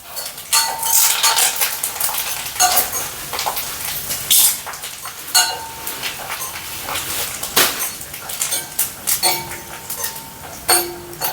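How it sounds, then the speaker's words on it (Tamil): Garlic cloves and curry leaves sautéing in a pan for tamarind chili chutney, heard as repeated clinking and scraping of a metal ladle against the pan in uneven bursts, close and fairly loud with no voices. "ரொம்ப கலர் மாறிடாமல் ஓரளவுக்கு வதக்கி எடுத்துக்குவோம்"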